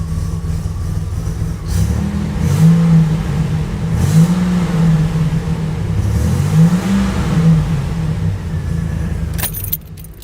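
A 1987 Buick Grand National with hidden issues catching and revving, its low engine drone rising and falling in several swells over a steady idle, close and loud, with a brief clatter near the end.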